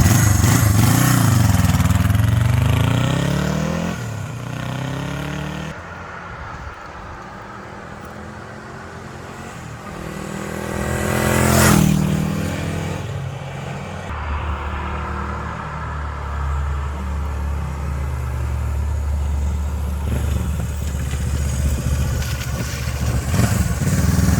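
A 1976 Honda CJ360T motorcycle engine hums steadily while riding, rising and falling with throttle changes, with wind and road noise around it and a brief louder surge midway.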